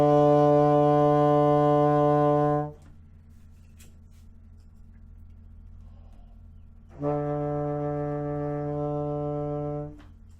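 A muted contrabassoon sustains a low tenor D, two long held tones of about three seconds each, separated by a quiet gap, rich and buzzy at close range.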